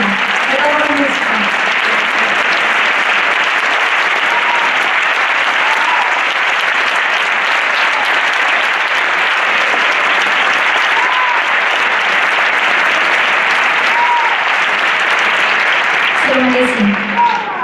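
An audience applauds the orchestra in a long, loud, dense clapping ovation that holds steady for over fifteen seconds, with a few voices calling out briefly over it.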